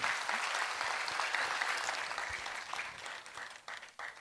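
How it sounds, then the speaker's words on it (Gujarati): An audience's sustained applause welcoming a doctor couple at a public talk, a dense wash of many clapping hands that holds steady, then thins and fades toward the end. "આ ડૉક્ટરને એ દંપતીને તાળીઓના ગગડાટથી વધાવો"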